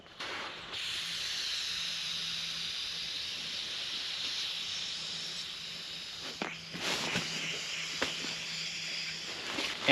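A self-inflating sleeping pad draws in air through its open valve during a truck camping trip, giving a steady, soft hiss that continues throughout, with a few faint handling clicks near the end.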